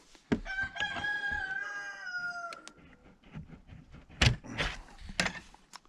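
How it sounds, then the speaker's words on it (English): A rooster crows loudly and close by inside a chicken coop, followed by scattered clucks and a few sharp knocks in a quiet space. "some of our chickens are coming in for the night"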